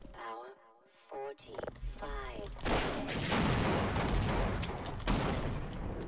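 Rapid gunfire from a sci-fi shooter video game set during an alien Xen invasion, loud and sustained after a brief stretch of talk, with bursts continuing over a few seconds.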